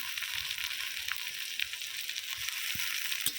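Onions with garlic and ginger paste frying in a pan, giving a steady, dense hiss and crackle with a few sharper pops. The sizzle is close and continuous, with no voices over it.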